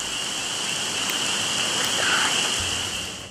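Soft, steady rain falls in a continuous hiss of broadband noise, even and unbroken throughout, with no voices heard.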